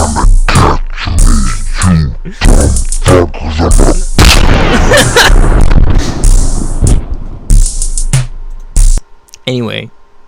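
A classic gunshot sound effect booms out amid a loud, busy mix of other effects and voices, punctuated by sharp bursts and rumbling blasts.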